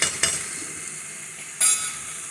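Jamaican brown stew pork, seasoned with mixed spice, sizzles steadily in a pan while a utensil scrapes through it in two distinct stirring strokes, close and clear over the constant frying hiss.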